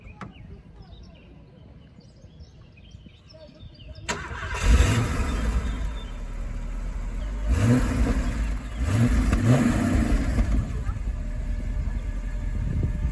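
A 1975 Mercedes 450 SEL 6.9 cranks and starts after about four seconds of quiet, settling into a loud, close idle with a couple of deep revs rising over its steady rumble.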